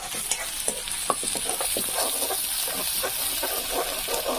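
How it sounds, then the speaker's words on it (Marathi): Onion and garlic frying in a pan, a loud close continuous sizzle with frequent spatula stirring and scraping strokes, and no talk. "टाकते आता कांदा कांदा आणि लसूण व्यवस्थित"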